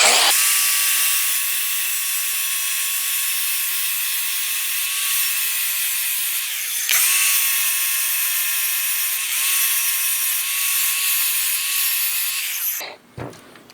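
A power tool grinding a lawnmower blade, a loud steady high whine running about seven seconds, briefly dipping, then resuming before spinning down at the end.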